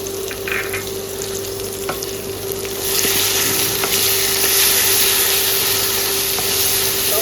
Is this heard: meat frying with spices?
yes